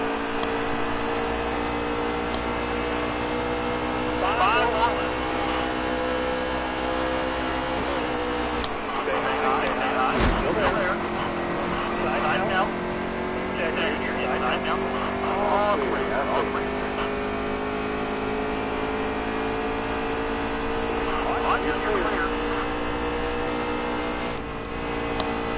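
NASCAR Heat 3 race car engines drone steadily at high revs, with a loud, sustained multi-layered whine that shifts slightly in pitch, and a commentator voice talks over the top.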